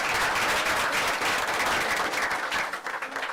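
An audience at a school board of education meeting claps, a loud, dense round of applause from many hands, steady before thinning out near the end.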